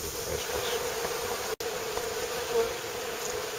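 Bees and a few wasps swarm around honey supers being cleared from a hive, a dense steady buzzing that holds throughout, close and continuous with a brief dropout near the middle.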